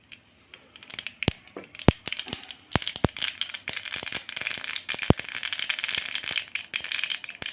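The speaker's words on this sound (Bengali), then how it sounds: "গরমে আমি সর্ষে ফোড়ন দিয়ে দিলাম" Mustard seeds spluttering in hot oil in a wok: a dense, steady crackle of tiny pops and sharper snaps that grows busier as the seeds heat, close and fairly quiet.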